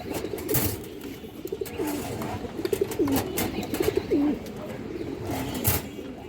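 Pigeons coo in a home pigeon loft, repeated low throaty calls close by over rustling and a soft background hum.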